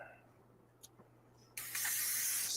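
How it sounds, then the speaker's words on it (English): An airbrush, clogged with paint, sprays water through to clear it. After a near-silent start with a faint click, a sudden strong hiss of spray cuts in and holds steady to the end. It is close and loud, with no talking. "Let's shoot some water through it."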